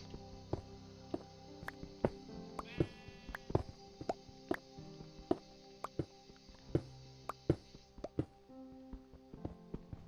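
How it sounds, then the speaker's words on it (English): A short Minecraft sheep bleat sounds once amid a busy stream of soft clicks, taps and plops. "Oh, is the sheep getting down okay?"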